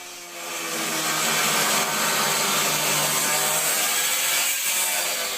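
Large and small angle grinders cut a hole in a steel shipping container, giving a loud, continuous, harsh grinding roar that holds steady throughout, close up with no talk.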